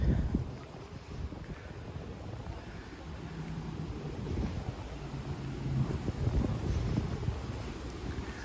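Steady wind blowing outdoors in Central Park, New York City, a broad low rumbling whoosh buffeting the microphone, continuous and fairly loud with gusts swelling toward the end, no talking.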